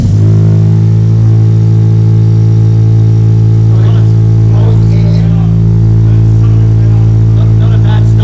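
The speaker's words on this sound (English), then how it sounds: "we're going to do first start now for the BYP titanium exhaust" A Honda Integra Type R DC5 engine, on its first start after a BYP 70mm titanium racing exhaust was fitted, runs loud and close, its steady deep drone holding throughout with no talk over it.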